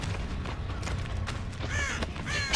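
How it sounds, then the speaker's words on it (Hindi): Crows caw in a video game, a few harsh calls toward the end over a steady low game soundscape with rumbling background noise. "भाई सारा कौवे मुझे डरा दिया अभी"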